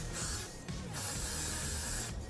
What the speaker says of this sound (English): take the same product that I am using to hold my wig down to also spray these little pieces